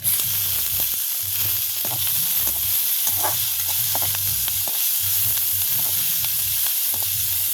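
Papaya sautéing in a pan, with a steady close sizzle and light scraping strokes from stirring, even and continuous throughout, with no talking.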